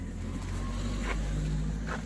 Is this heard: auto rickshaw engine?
yes